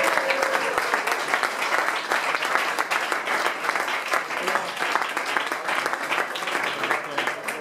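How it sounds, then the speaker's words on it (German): Steady applause from a crowd fills the whole stretch, dense and loud, with clapping continuing evenly throughout. "Applaus."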